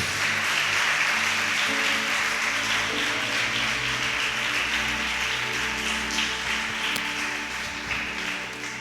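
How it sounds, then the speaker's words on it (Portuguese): Church congregation applauding in a steady, fairly soft wash of clapping over sustained keyboard chords, gradually fading toward the end. "Aplauda o Senhor em nome de Jesus"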